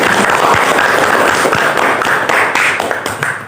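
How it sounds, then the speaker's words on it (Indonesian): Classroom audience clapping after a student group's presentation, a steady dense patter of many hands, fairly close and loud throughout, tapering slightly at the end. "Untuk itu kita beri aplaus ya"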